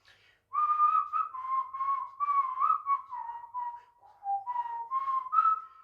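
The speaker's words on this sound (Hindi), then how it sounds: "जब सीटी बजाते हैं आप इस गाने को सीटी पे निकालिए" A person whistles a Hindi song solo, a clear close melodic tune in short phrases with brief breaks between notes, played as a guide for learning it on flute.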